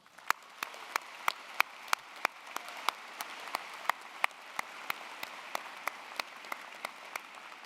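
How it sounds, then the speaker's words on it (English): At a University of Illinois Chicago College of Liberal Arts and Sciences spring commencement, a large hall audience gives soft, distant applause, with one nearby pair of hands clapping sharply in a steady, even rhythm above the spread-out crowd. "Please join me in congratulating them with a round of applause."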